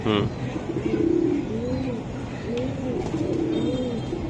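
High-flying Giribaz racing pigeons coo close by in repeated soft, rolling calls, one after another, with low human voices in the background.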